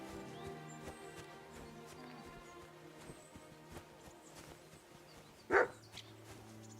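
A single short dog bark rings out in a medieval village in Kingdom Come Deliverance 2, loud against a quiet bed of steady ambient tones and faint footsteps; no talk.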